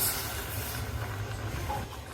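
Steady sizzling hiss as lentils go into a hot tempering with bay leaf for a mango dal, continuous and fairly close with no talk.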